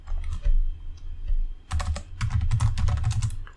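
Fast typing on a computer keyboard while writing Solidity 0.8 code for a vault contract, dense rapid clatter of close key presses in quick bursts with no talk.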